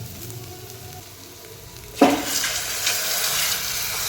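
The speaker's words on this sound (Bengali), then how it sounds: "আর আমি আগে থেকেই মটনটা বয়েল করে রেখেছিলাম, এটা এখানে দিয়ে দেবো।" Boiled mutton goes into a pot of simmering soup, a sudden splash and sizzle followed by steady bubbling and hissing close by.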